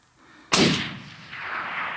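A single sharp rifle shot fired at a mule deer on a Colorado hunt, a loud close crack followed by a long fading rumble of echo rolling across open country.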